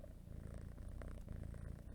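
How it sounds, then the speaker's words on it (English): A cat purrs softly and steadily while sitting on someone's feet or lap, a close, low rumbling with an even rhythm that continues without pause. "it's the stock kitty sitting on my feet or on my lap, purring away."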